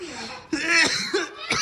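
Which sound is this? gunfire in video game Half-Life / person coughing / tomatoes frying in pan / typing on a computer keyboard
person coughing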